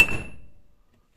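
A hammer taps a metal bushing once, a sharp close metallic clink with a faint ringing tone that decays within half a second.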